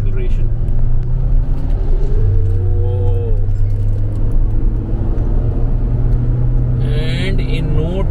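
A Mahindra XUV 700 SUV accelerates hard from inside the cabin, its engine a steady low rumble with a rising tone and road noise, while someone talks over it.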